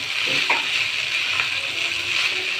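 Rice grains sizzle softly in a hot pan as they are stirred, a continuous moderate frying hiss with a few light scrapes and shuffles of the spoon, no talk.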